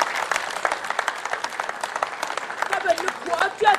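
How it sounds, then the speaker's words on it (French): Applause from the congregation at a memorial farewell mass, a sustained patter of many hands clapping, moderately close, with voices audible underneath. "d'applaudir la fidélité d'une femme."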